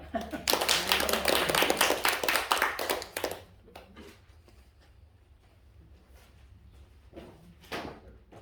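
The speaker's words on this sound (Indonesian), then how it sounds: "Ayo tepuk tangan saudara ya." A church congregation at a Sunday service claps hands for about three seconds, a dense burst of clapping that then stops, leaving quiet room sound with a few scattered taps and thumps.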